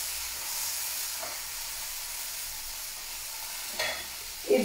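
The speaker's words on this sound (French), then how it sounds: "Je vais juste mélanger ça" Spoon stirring a mushroom salad dressed with honey and pepper, a soft scraping hiss with a couple of brief louder scrapes near the end.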